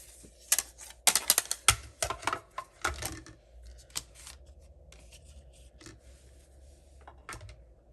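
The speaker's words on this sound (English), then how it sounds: "We're going to get our mini Stampin' Cut and Emboss machine and we're going to die cut this out." A mini Stampin' Cut and Emboss machine die cuts paper with a quick burst of close, crisp clicks, crackles and rubbing, then quieter faint handling noises.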